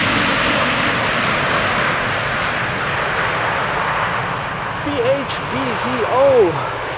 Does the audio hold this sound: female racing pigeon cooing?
no